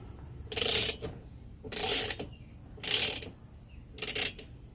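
A ratchet turns a 9/16 socket on a Coleman 228D camping lantern, giving four separate bursts of close, crisp clicking with short pauses between them and no talk.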